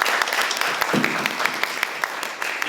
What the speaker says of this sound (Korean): 이거에 대해서는 박수 한번 보내주시고